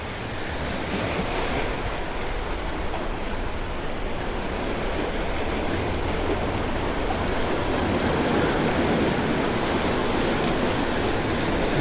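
Rough surf breaks on the shore while the sea farther out stays calm, making a steady, loud, continuous roar with wind noise throughout and no talking.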